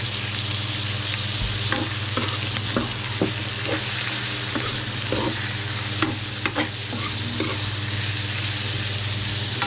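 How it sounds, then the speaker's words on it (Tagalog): Beans drop into a hot frying pan and are stirred, giving a steady loud sizzle with repeated scraping stirs and clinks throughout, up close and with no talking. "So, nulog na natin itong beans."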